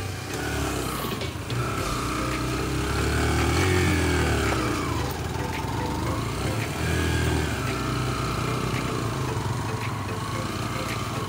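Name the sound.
Yamaha YBR motorcycle engine revving on mountain track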